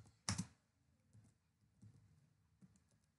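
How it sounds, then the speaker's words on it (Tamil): A few sparse keystrokes on a computer keyboard, one sharper click followed by soft isolated taps, close and quiet in a still room. "நான் டைப் பண்ணி காமிக்கேன்"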